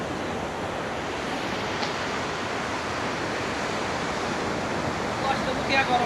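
Steady broadband wash of sea waves along the coast at Gangneung, continuous and fairly loud throughout with no distinct breaks, faint voices surfacing briefly near the end.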